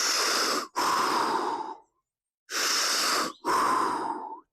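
Deep breathing during a posture stretch, two long airy exhale-inhale pairs separated by a pause, close and loud, no talk.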